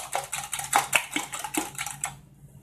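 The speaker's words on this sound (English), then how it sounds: "And I'm going to whisk my eggs." Four eggs are whisked in a bowl, a quick, steady metallic clatter of whisk against the bowl that repeats rapidly for about two seconds and then stops, close and fairly loud with no talking.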